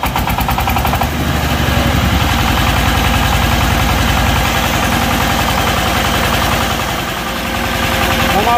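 Sigma Super diesel engine running loud and close after a tappet clearance adjustment, a rapid even clattering beat with heavy low rumble and noticeable nozzle knock throughout.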